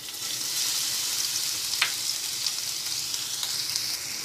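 Crushed ginger and garlic with whole spices fry in hot oil for a bhindi masala, giving a steady, close hiss of sizzling with a few faint stirring clicks.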